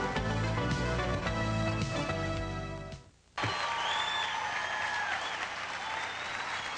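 Large crowd of about 6,000 onlookers at an outdoor polo club in Boca Raton applauding and cheering a tennis champion's 1991 Virginia Slims of Florida win, loud and steady, with a brief dip midway before the applause swells again, music underneath at first.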